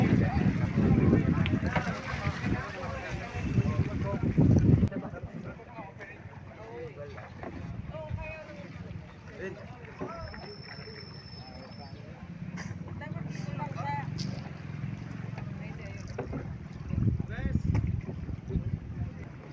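A boat moves across open water with wind buffeting the microphone and splashing, while people talk nearby throughout.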